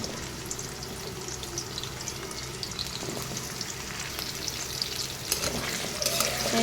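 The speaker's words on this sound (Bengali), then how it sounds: "আর পেঁয়াজগুলো দিয়ে দিতেছি, একসাথে ভাজবো আমি।" Dried fish (shutki) and onions frying together in oil, a steady dense sizzle that carries on throughout with occasional stirring scrapes, close and even in level.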